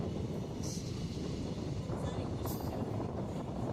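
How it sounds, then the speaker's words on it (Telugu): A continuous low rumble and rattle of a special passenger train running from Hyderabad to Vizag, steady and fairly close, with faint higher whines drifting above the roar. "చూసారా ఎంత ఫాస్ట్గా వెళ్తుందో మా ట్రైన్"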